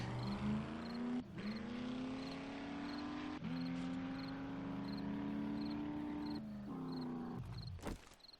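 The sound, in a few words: truck engine in the video game 7 Days to Die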